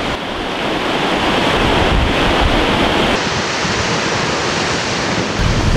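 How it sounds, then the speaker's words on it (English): Ocean surf off a cold-season beach, the swell down to a couple of feet and choppy, roaring as a loud, continuous wash of breaking water with buffeting wind across the microphone. "So that 11-foot swell is now down to just a couple of feet and a little choppy at that."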